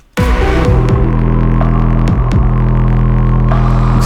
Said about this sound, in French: la note qu'on entend venir de loin là, derrière, qui petit à petit augmente et en volume et en distorsion